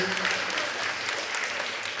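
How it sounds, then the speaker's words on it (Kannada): Applause for participating school children at a school cluster-level talent event, a continuous wash of many hands clapping with voices mixed in. "ಗಟ್ಟಿಯಾಗಿ ಕೈ ಚಪ್ಪಾಳೆ ತುಟ್ಟಿ ಆ ನಮ್ಮ ಮಕ್ಕಳಿಗೆ"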